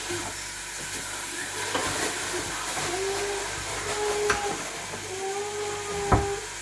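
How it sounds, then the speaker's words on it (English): Beef frying in a pan for meat pie filling, a steady close sizzle and hiss with occasional stirring scrapes and a sharp clank near the end, under faint background voices. "allow it to cook until it changes color from the red color of the beef to the cooked color"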